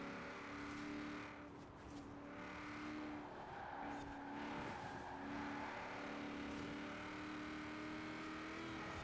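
A racing car engine in Forza Horizon 4, played on a wheel, drones steadily at high revs as the car straightens out and scrubs off speed before a corner, with faint tyre noise and no talking.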